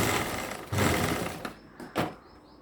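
Sewing machine running in short bursts while stitching a fabric puff sleeve, close and moderately loud, ending in a couple of quick stops and brief restarts.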